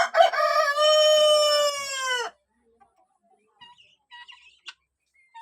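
Guineafowl in a backyard flock of roughly four-month-old birds gives one loud, harmonic, rising-and-falling call lasting about two seconds, followed by a few faint scattered chirps and clicks in near silence.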